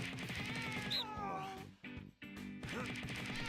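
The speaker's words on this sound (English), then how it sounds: "So yeah, cat minigames to work out our cat and make her skinny." A cat meows repeatedly in the No More Heroes 2 cat minigame, with several plaintive mews over game music, a brief pause mid-clip, then the music resumes.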